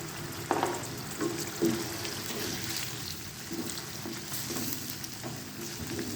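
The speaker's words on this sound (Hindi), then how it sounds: "अब हम इसमें ये लहसुन अदरक और ग्रीन मिर्चों का पेस्ट डाल दें।" Steady, dense sizzling of garlic, ginger and green chili paste frying with chicken in a karahi over high flame, with occasional stirring scrapes and small bumps, close and continuous throughout without talking.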